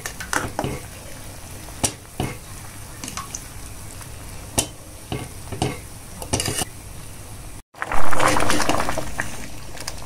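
A spoon stirs a simmering pot on a home stove, giving intermittent scraping clinks against the pot over a soft bubbling sizzle, with a brief louder clatter near the end.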